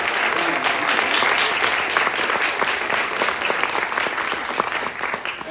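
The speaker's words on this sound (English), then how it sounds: "let's give another round of applause for all our nominees" A large crowd at an awards ceremony applauds the nominees steadily, dense sustained clapping that holds at an even level throughout.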